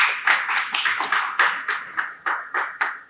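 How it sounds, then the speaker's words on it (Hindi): Scattered hand claps at the Urja Bharat 2026 green energy event in India, sparse and irregular at first, like a small audience starting to applaud; fairly close, with no talking. "जोरदार तालियों से स्वागत कीजिए"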